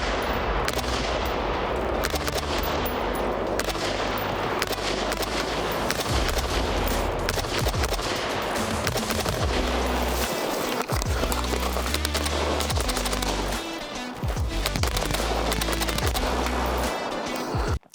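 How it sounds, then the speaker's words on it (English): Rapid bursts of 5.56 rifle fire from an FN SCAR 16S piston-driven rifle, loud and close, with shots packed densely throughout and only a brief lull near the end. "Let's do a little more shooting."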